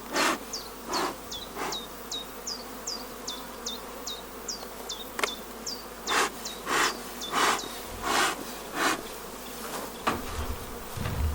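Honeybees buzz around a hive during a honey harvest, a steady close insect drone with individual bees zipping past, plus rhythmic soft puffing bursts in the background.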